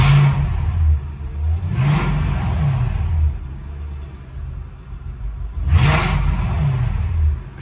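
Mercedes E55 AMG engine revving in drive with a slipping transmission, loud close rumbling surges that rise and fall three times without the car pulling away, no talking.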